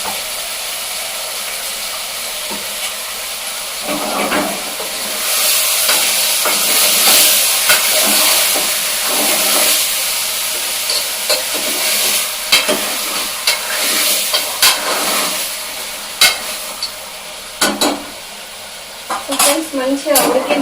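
Mutton sizzling and frying in hot oil while being stirred, a loud continuous hiss of frying with intermittent scraping and clinking of the utensil against the pan, close up.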